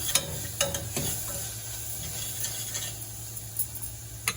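Ginger-garlic paste being stirred in a frying pan for a soya chunk curry, with soft scraping strokes, a few sharper clinks of the spoon, and a faint steady sizzle underneath.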